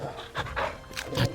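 A dog pants in quick, close, rhythmic breaths in Final Fantasy XVI, heard for a moment with no talk over it.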